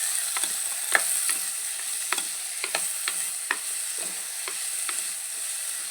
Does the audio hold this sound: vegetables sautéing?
yes